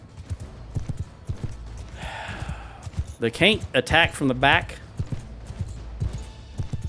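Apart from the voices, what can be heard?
horse hooves clip-clopping in Mount & Blade II Bannerlord video game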